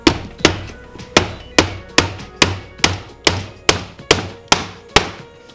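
Wood pieces for a farmhouse corbel are hammered together in a steady series of about thirteen sharp, close wooden knocks, evenly spaced with short decays and no talking.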